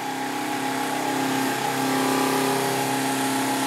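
A small polishing wheel spins at about 2,000 rpm against perspex, giving a steady motor whine with a constant tonal hum, close and continuous, rising slightly in intensity midway.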